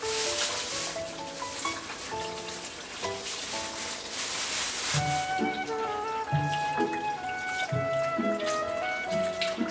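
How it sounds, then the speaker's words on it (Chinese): Fresh sea shrimp are rinsed in water, with soft splashing and trickling sounds under a backdrop of music-like tonal notes, fairly quiet and continuous. "我们先清洗海虾"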